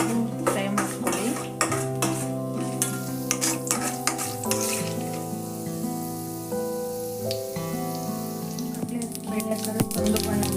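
Chana dal lentils frying in a pan and stirred steadily with a utensil, a close, continuous sizzle broken by repeated scraping and clinking against the metal, with a faint voice now and then.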